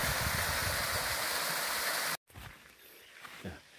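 Waterfall at the head of the Boyong River on the slopes of Merapi, a loud steady broadband rush of falling water that cuts off abruptly midway, followed by quieter flowing water and faint sounds.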